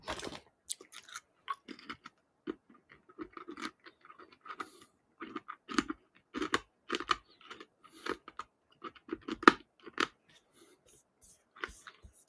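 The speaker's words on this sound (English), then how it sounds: "Can you all hear me crunching, by the way?" Someone crunches and chews food close to the microphone, a string of sharp, irregular bites and crackling chews running through the whole stretch with no speech.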